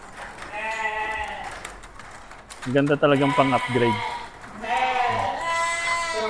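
A Dorper sheep on a goat and sheep farm bleats in several drawn-out, wavering calls, close by. Someone talks between and over the bleats.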